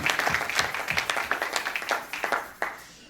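A church congregation applauding at a Pentecost service, a brisk run of close claps with uneven rhythm that thins out toward the end, with a brief voice over it.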